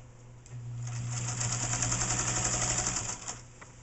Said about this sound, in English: hold the end of your threads just gently for the first few stitches.